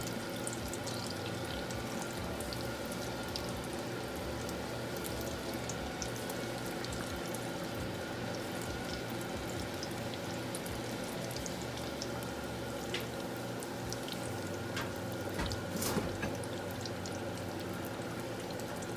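Deviled eggs deep frying in hot oil give a steady, dense bubbling sizzle that stays loud and even throughout, with occasional small pops and no voices.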